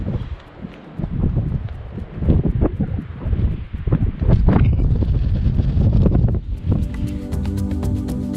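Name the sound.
wind on mountain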